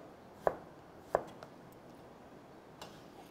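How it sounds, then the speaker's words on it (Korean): Knife push-cutting food on a board, a few sharp distinct chops spaced apart with a couple of fainter taps, close and alone in a quiet room. "잡고 앞으로 밀어서 썰어주시면"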